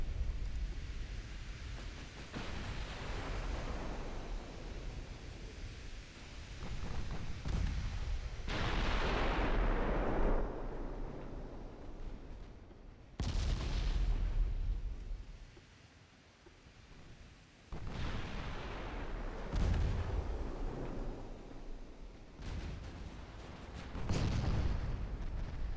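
Heavy battleship main guns firing in the naval game Ultimate Admiral Dreadnoughts, a 1917 French campaign battle: repeated deep booming salvos roll out over about 25 seconds, each loud blast trailing off into rumbling echoes, with no talk.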